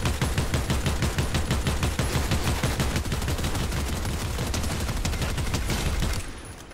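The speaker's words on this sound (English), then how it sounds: "Somebody's firing at us." Sustained rapid gunfire in the Fortnite video game, dense regular bursts of shots running loud and continuous for about six seconds before cutting off abruptly.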